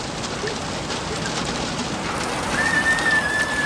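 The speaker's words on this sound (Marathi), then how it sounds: "बेकार पाऊस आहे" Steady rain patters across a wide band with a soft continuous hiss, and a faint thin tone appears near the end.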